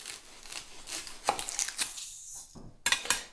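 A knife slicing through an onion on a cutting board, with a few sharp cuts and crisp tearing sounds in quick succession, close and moderately loud.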